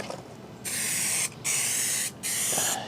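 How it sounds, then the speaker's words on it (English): Aerosol spray adhesive, 3M Super 77, hissing from a can in three steady bursts with short pauses between, close and loud, laid as a heavy coat around a perimeter during vacuum tube radio restoration work. "I'm using the 3M Super 77 spray adhesive"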